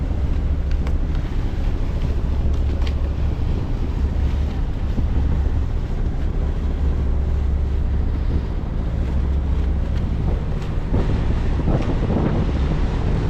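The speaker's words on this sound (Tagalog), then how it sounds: "Ang lalaki ng alon doon." Big ocean waves surging at a surfing area, heard from a boat with a Honda GX390 engine, a steady broad roar of water and wind buffeting the microphone throughout with no talk.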